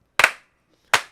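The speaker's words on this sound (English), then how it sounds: "This is a slow clap." Two sharp, loud hand claps about three-quarters of a second apart form a deliberate slow clap, each crisp and close with a short decay into silence.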